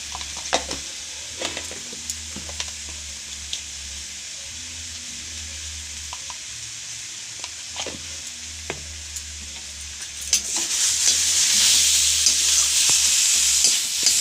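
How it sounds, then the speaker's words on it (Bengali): Turmeric, chili powder and salt fry with onion, ginger and garlic in a pan with a splash of water for an oil-free chicken dish, sizzling steadily under scraping stirs, then growing louder and brighter toward the end. "তারপর একটুখানি জল দিয়ে আমরা কষিয়ে নেব এটা"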